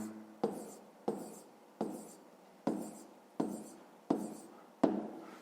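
Pen or pencil writing a math solution by hand on paper, a series of seven short scratching strokes at a steady rhythm, close and quiet with no talk.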